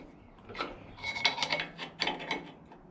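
Pry bars and screwdrivers slowly working the flywheel off a Volkswagen Beetle engine, with a few short metallic scraping and grinding rasps in quick succession, close by.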